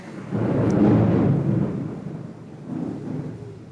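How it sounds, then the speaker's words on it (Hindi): Deep rolling thunder rumbles loudly through a rainstorm, swelling for a few seconds, easing, then growling again with no voices. "बारिश हो रही है, बादल गरज रहे हैं मस्त ज़ोर से।"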